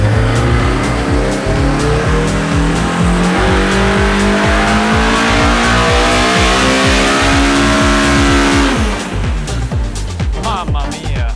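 A stock Honda K20 engine in a car strapped to a dyno revs hard through a long continuous pull, its loud rising howl climbing steadily in pitch before easing off near the end.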